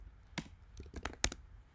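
Typing on a computer keyboard: a handful of irregular, close key clicks scattered over a couple of seconds, fairly quiet, with no speech.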